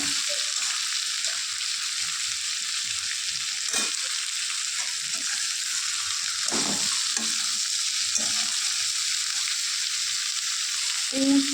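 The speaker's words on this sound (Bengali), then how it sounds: "উচ্ছে, বেগুন, আলু এগুলো ভালোভাবে নেড়ে দিয়েছি।" Bitter gourd, eggplant and potato frying in oil in a pan, a constant bright sizzle broken by repeated spatula stirs and scrapes, close up, with no talking.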